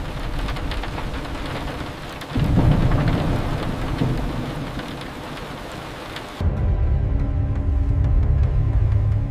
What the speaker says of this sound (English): The storm returned.